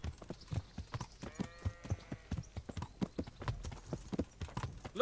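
Horse hooves clip-clop steadily on a road in the medieval game Kingdom Come: Deliverance, a close, rhythmic series of hoof strikes with no talk over them.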